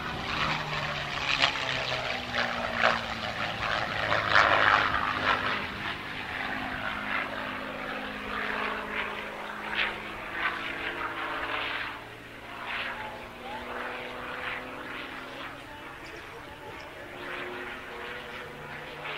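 A P-51 Mustang propeller fighter rolls through aerobatics overhead, its engine droning steadily with pitch sweeping up and down as it passes, loud and continuous throughout with no voices.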